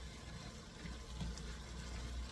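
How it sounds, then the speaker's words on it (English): Water poured into ground lamb browning in a hot cast-iron Dutch oven, a steady close sizzling gush and hiss that continues through the whole moment, with no voices. "then you add the 2 tablespoons of water. That's going to help deglaze even more."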